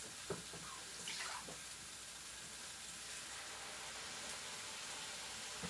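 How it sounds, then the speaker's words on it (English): Water poured from a tap or jug into a cooking pan while making chicken biryani and sweet potato curry, a brief splashing pour at the start followed by soft running and sizzling hiss, no talk. "let's just add a little water anyway."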